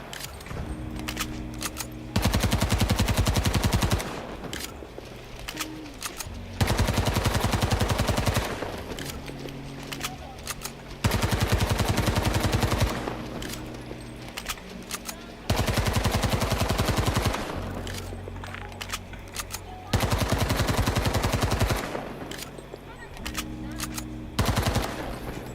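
Gunfire in Battlefield 2042, heard as loud bursts of automatic fire repeating every few seconds, each lasting one to two seconds, with quieter gaps of game ambience between them and no talking.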